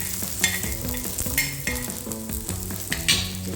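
Ingredients sauté in a hot pan until just reddish, a steady frying hiss and occasional stirring under rhythmic background music.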